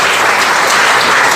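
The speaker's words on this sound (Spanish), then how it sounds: "Póngase de pie esta mañana y dele un aplauso al Señor" A church congregation applauds together, a dense, steady clapping that fills the space evenly for a brief stretch with no voices standing out.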